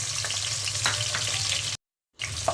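Garlic and onion hit hot oil in a cooking pot and set off a loud, steady sizzle, which breaks off briefly near the end and then comes back.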